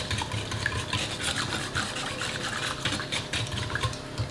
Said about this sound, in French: Et il suffit de venir bien mélanger.